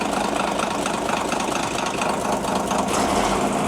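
Heavy haul truck engine idling under remote control throttle, a steady, loud, continuous rumble with a rough, slightly knocking texture that persists without pause throughout.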